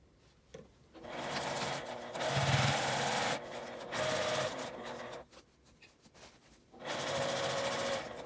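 A sewing machine stitches a drawstring knapsack bag with a 1.5 cm seam allowance, running in several separate bursts of steady mechanical whirring with short pauses between runs, close and moderately loud.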